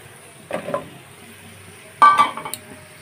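Potatoes and eggplant with spices being stirred in a pan for a katla fish curry, two short bursts of scraping and clattering utensil against cookware over a quiet, faint background.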